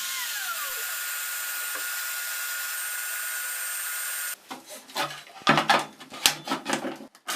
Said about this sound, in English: Now I can use my router and create a recess.